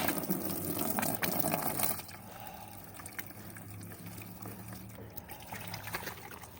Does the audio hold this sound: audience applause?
no